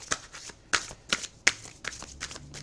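Tarot cards shuffled by hand in a series of crisp riffling bursts, about eight quick flutters in under three seconds, close and fairly quiet with no talking.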